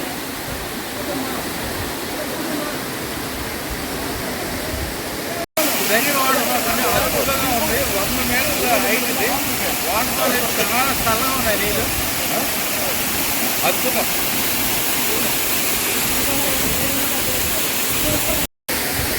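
Jhari Waterfalls roars in a steady, dense rush of white noise that continues without a break while a person speaks over it.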